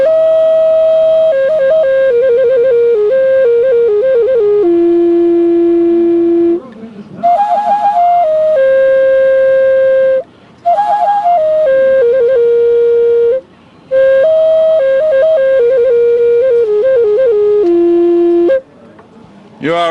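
A handmade wooden Native American flute, stained or sealed, plays a breathy melodic phrase of sustained notes with short pauses between phrases at a pow wow, close and fairly loud, no talking.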